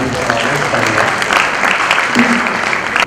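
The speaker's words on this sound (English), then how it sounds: "So let's give them a round of applause before I invite our next panel." An audience at a village energy panel event claps steadily for about three seconds, a dense, loud round of applause that fills the room.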